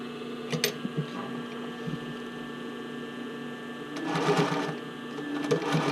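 A sewing machine stitches a bra cup overlay in a steady mechanical run, with a constant motor hum, a few sharper clicks near the start and a louder stretch of stitching toward the end.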